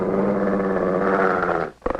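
A dog snarls in a sustained, loud, throaty growl at close range in a 1957 film scene, then breaks off abruptly into a short burst of sharper attacking sounds.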